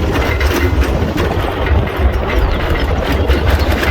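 A car engine drones steadily as the vehicle drives fast along a high mountain road, a loud continuous low rumble with road noise heard from inside the vehicle, no voices.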